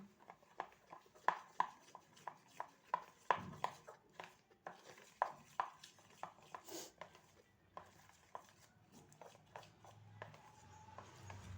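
Semolina batter for dhokla is stirred in a bowl, giving faint, regular clinking taps of a spoon against the dish, repeated steadily about twice a second, with soft scraping and no talk.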